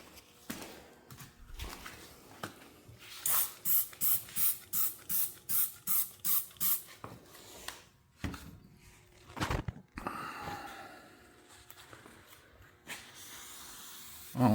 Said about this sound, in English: let's respray it